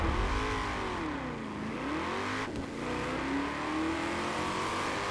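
Race car engine in Forza Horizon 4, launching hard off the line during a NASCAR-style street race in Edinburgh; a loud, continuous revving roar with sweeping pitch that dips and climbs again, heard alone.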